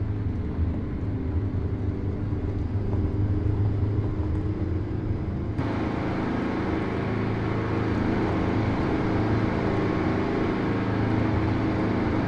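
A Freightliner FLD truck hauling cattle in American Truck Simulator idles with a constant low, throaty engine rumble, close and even throughout, with a slight shift in tone partway through and nobody speaking.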